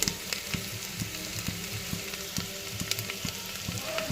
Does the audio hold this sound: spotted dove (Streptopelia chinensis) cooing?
no